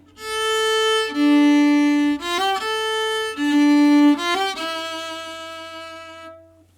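A solo violin plays the opening phrase of a theme, clear bowed notes in a repeating four-note pattern with a final held note fading out, close and alone.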